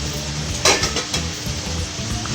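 Sliced onions and fresh mint sautéing in a pan for chicken dum biryani, a loud close continuous sizzle with a couple of sharp stirring scrapes and clinks, no voices.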